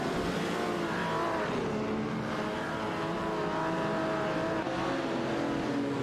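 Race cars in an AI-run race, a Ferrari battling a Jaguar on track, roar steadily as dense, continuous engine noise that stays loud and close throughout, with no voices.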